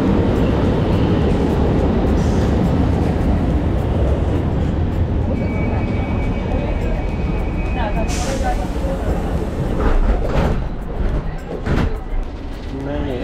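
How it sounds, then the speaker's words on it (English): Inside an underground metro station of the Brussels STIB network, a steady roaring rumble of trains and station machinery fills the space, with voices mixed into the din and a brief high whine near the middle. "So this is a underground metro station."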